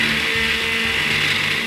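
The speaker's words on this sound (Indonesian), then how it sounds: "Madu, lemon, jahe, bawang putih. Kita blender." An electric blender whirs steadily, blending honey, lemon, ginger and garlic into a smooth mix, a loud continuous motor drone with no talking.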